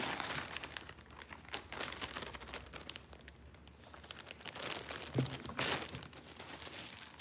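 A plastic bag crinkles and rustles as a Get Lowered Cycles t-shirt is packed back into it, with irregular close crackles and handling sounds and no talking.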